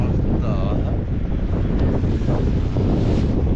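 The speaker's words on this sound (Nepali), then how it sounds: "एकदम हावा नि मस्त लागेको।" Strong wind buffets and roars continuously across the microphone during a paragliding flight, with a brief voice heard faintly under the gusting noise.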